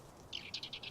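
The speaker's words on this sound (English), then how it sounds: "let's get away from this bird here" A bird in a farming video game gives a quick run of five or six short, high chirps in rapid succession, faint against quiet background hiss.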